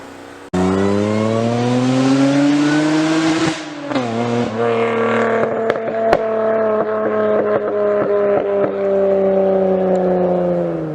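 A 1993 Toyota MR2, mid-engine, fitted with a Honda J32A2 V6 and an M90 supercharger, revs loud and close: one long held rise, a dip, then sustained high revving with sharp pops and crackles.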